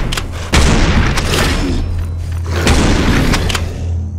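Gunfire in Serious Sam 4 on Xbox Series S: loud, dense shooting with repeated sharp cracks over a deep rumbling bed, continuous throughout with no clear talking.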